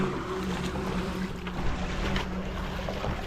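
A continuous churning rush of water and engine hum as a vehicle pushes steadily through deep floodwater on a highway in Urdaneta City.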